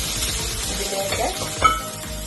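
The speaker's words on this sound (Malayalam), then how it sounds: "1 സ്പൂൺ റീഫൈൻഡ് ഓയിൽ പാനിലേക്ക് ഒഴിച്ചിട്ട് അതൊന്ന് ചൂടായപ്പോൾ ഞാൻ ഈ വെജിറ്റബിൾ എല്ലാം കൂടെ അതിലേക്ക് ഇടുവാണ്." Mixed vegetables sizzle and fry in hot refined oil in a pan, a steady close crackle with stirring scrapes and one brief sharper clink near the end.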